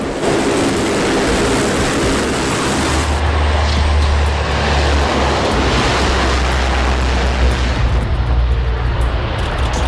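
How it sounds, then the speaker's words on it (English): A C-130 Hercules military transport from Youngstown Air Reserve Station taking off and landing on a dirt runway, its engines making a loud, continuous broadband roar with a heavy low rumble that swells and holds throughout. "AC-130 Hercules from Youngstown Air Reserve Station pulls off incredible takeoffs and landings on a dirt runway at Branch Camp Charleston"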